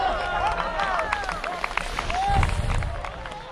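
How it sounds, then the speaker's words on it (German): Spectators at the Selvarennen ski race in Vals, 2019, clap and cheer, with whistles and shouts rising over a continuous crowd murmur and voices nearby. "Applaus!"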